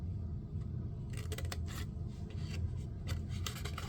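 Scissors snip through paper while cutting out a craft box bottom, a quick run of crisp, close cuts over a steady low background hum.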